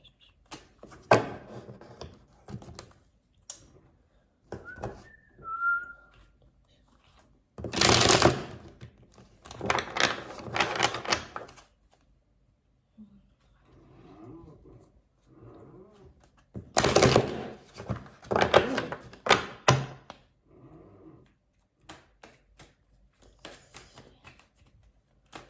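Cards riffle-shuffled in bursts, each a dense fluttering rattle lasting a second or two, close and crisp, repeated a few times with softer handling clicks and brief murmurs between.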